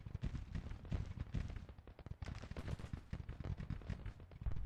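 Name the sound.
artillery fire in Grand Tactician: The Civil War video game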